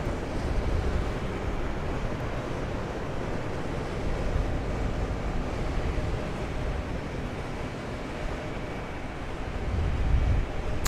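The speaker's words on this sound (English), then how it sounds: "I'm trying to hide from the wind" Strong wind buffets a microphone outdoors at a plane spotting spot by Raleigh-Durham International Airport, a loud continuous rumbling roar that swells near the end, with no voices heard.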